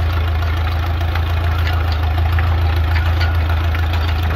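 An Allis Chalmers 6-12 tractor engine idles close by with a steady low rumble and a faint rhythmic knock, continuous throughout.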